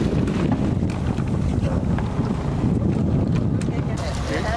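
A crabbing boat motors up toward a buoy, its engine rumbling low and steady under heavy wind buffeting and water wash, with no break in the noise.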